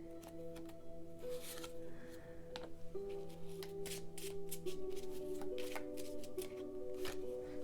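Close, continuous riffling and soft slapping of tarot cards being shuffled by hand, with faint tonal hum in the background.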